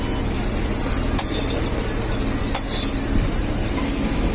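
Fried eggplant in a pan gives a steady close sizzle of hot oil, with scraping stirs and a couple of light metallic clinks of utensil against pan, no talking.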